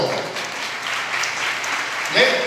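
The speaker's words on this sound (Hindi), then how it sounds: "एक बार ताली बजा दो" Scattered clapping from a congregation at a gospel preaching meeting, a thin, fairly soft patter of hands lasting a couple of seconds, with background murmur underneath.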